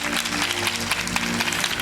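Steady applause from a crowd, dense clapping that fills the whole moment without pause.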